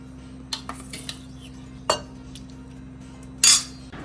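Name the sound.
spoon stirring milkmaid into a dessert mixture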